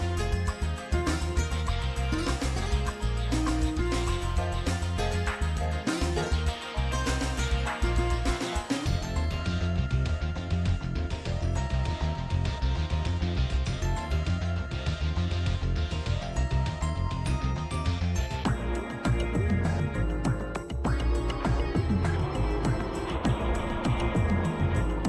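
Hub world music from the Spyro 2 video game plays continuously, a layered, busy instrumental with steady rhythm and shifting melodic textures, filling the space on its own without any voices.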